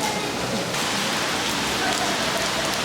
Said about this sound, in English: We just got here and it's raining a bit.